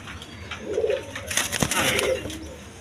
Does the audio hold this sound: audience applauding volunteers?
no